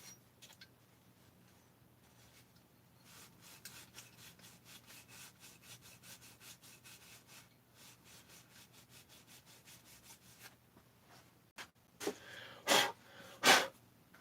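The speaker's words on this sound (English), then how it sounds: "Hit the sealing surfaces here with a little bit of Scotch-Brite just to make sure it's shiny." A Scotch-Brite pad scrubbing the sealing surfaces of a Husqvarna 288XP chainsaw crankcase, quick repeated rasping strokes, faint and close, with a few louder scrapes near the end.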